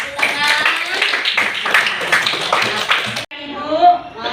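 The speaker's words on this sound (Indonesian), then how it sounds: "Tepuk tangan." Classroom applause for a student during a lesson on Asmaul Husna, loud scattered hand clapping for about three seconds that stops abruptly, followed by talking.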